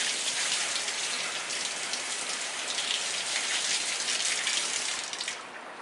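Water from a tap runs steadily over a Marineland aquarium filter part, a loud even splashing rush that eases off at the very end.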